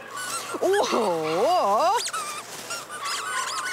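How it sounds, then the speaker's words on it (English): A dog's squeaky toy gives out a run of high, wavering rubbery squeaks close by, rising and falling in pitch, with a person speaking excitedly before and after. "Where's your squeaky toy?"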